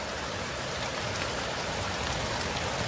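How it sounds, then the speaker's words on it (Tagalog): Heavy rain pours steadily and close, a dense unbroken hiss of drops hitting surfaces with no voices over it. "medyo malakas pa naman yung ulan"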